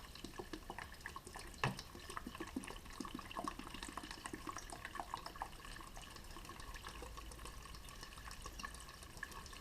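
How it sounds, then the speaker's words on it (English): Fresh clean water poured into the radiator of a 2002 Dodge Dakota during a coolant flush, a steady splashing trickle that runs throughout with a brief louder splash early on, no talking. "Just pour fresh clean water in there."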